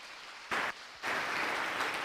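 An audience at a Ramazan iftar broadcast gives a short burst of applause, then a longer, steady round of clapping, moderately loud and close.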